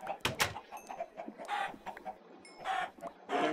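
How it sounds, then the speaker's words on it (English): Chickens cluck in the video game Animal Craft, with short, soft, scattered clucks in a few bursts and some bird-like chirps, fairly faint. "So I'm not gonna keep a bunch of chickens here."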